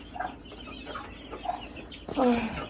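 A hen clucks in a village yard with short, soft clucks spaced through the clip, then a louder, drawn-out call near the end, close by against quiet outdoor background.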